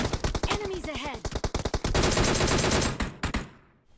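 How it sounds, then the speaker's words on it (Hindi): Rapid gunfire from a PUBG Mobile firefight, with loud bursts of automatic shots rattling in quick succession, brief pauses between volleys, and a voice speaking over the first part before the shooting trails off. "ये सारे बंदे मेरे पे ही गोली चला रहे हैं"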